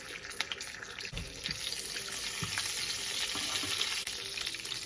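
Cumin seeds sizzling in hot oil in a pan preheated on medium heat, a steady close frying hiss with a few faint clinks, no voices.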